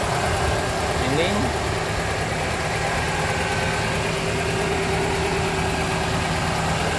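A 1995 Toyota Starlet engine idles smoothly and steadily at close range, a low even hum with a faint whine, while someone talks over it.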